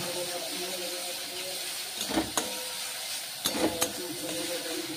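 Ginger paste and vegetables frying in a pan for a banana-flower and prawn dish, a steady sizzling hiss broken by two short bursts of stirring scrapes, close and fairly loud.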